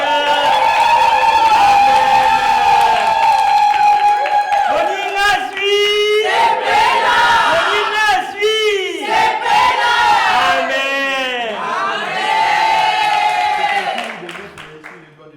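Church congregation acclaiming the Lord during a wedding ceremony, a sustained loud crowd roar of cheering, whoops and scattered clapping that swells and dips, then fades at the end.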